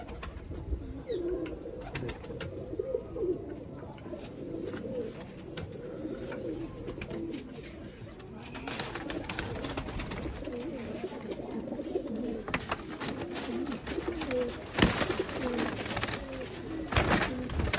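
Rojy pigeons coo in a continuous, overlapping low murmur of many birds nearby, with occasional wing flutters and brief louder calls.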